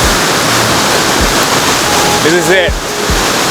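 Helton Creek Falls in North Georgia roars as a constant, loud wash of falling water up close, with a person speaking briefly over the rush.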